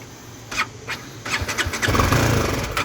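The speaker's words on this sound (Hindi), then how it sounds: "so let's start the bike" A BMW G310GS motorcycle cranks with a few short bursts, then catches and settles into a rough idle that rises in loudness, heard close by.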